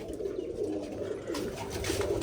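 A steady low cooing of pigeons continues throughout at close range, fairly soft and unbroken, with faint rustling in the background and no speech.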